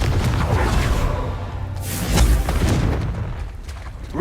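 A Confringo spell explosion in the video game Hogwarts Legacy lands as a deep boom with a whooshing burst, followed by a rumbling tail over game ambience.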